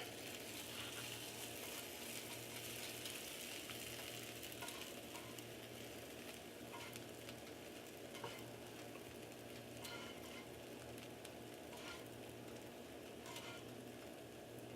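Bread fries in bacon grease in a pan on the stove, giving an even, soft, continuous sizzle with faint crackles, quiet and without any talking.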